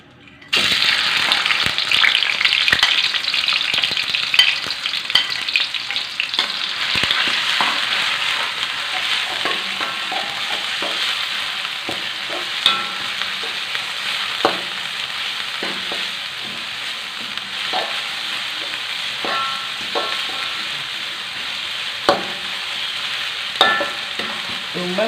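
Shallots, garlic and ginger sautéing in a hot pan, a steady bright sizzle throughout with frequent scraping stir strokes and clinks of the spatula, close and fairly loud, no voices.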